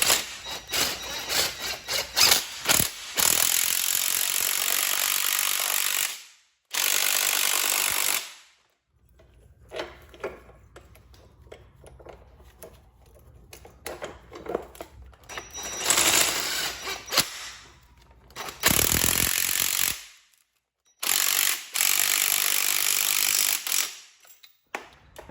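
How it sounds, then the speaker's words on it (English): Impact wrench driving a 3/4 inch socket on a spring compressor while swapping lowering springs on a Fiat 124 Spider Abarth strut; loud, close bursts of rattling hammering separated by short pauses, with quieter mechanical handling between. "using an impact makes it easy"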